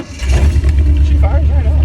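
A Nissan 720 pickup truck's engine runs loud and close right after firing up, a deep rumbling idle that surges slightly, with someone speaking over it.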